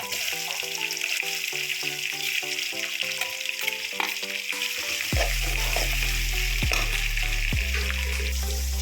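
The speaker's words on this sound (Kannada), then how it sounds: "ಇವಾಗ ಈರುಳ್ಳಿ ಹಾಕೊಳ್ತಾ ಇದ್ದೀನಿ" Two medium-sized chopped onions sizzling in a pan for vegetable upma, a steady bright fry under rhythmic stirring and scraping, with heavier clattering thumps in the second half.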